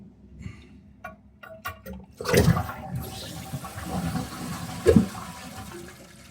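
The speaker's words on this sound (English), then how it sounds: "when you flushed it" A Kohler toilet with a chain-length flush fault flushes nearby: a few light clicks and taps, then a loud rushing gush of water that keeps draining and refilling, with a second surge toward the end.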